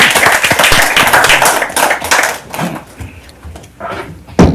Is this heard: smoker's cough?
no